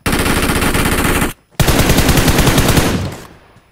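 Loud, rapid automatic gunfire in a shooter video game, fired in two sustained bursts separated by a brief silence, close and dominant with no talk.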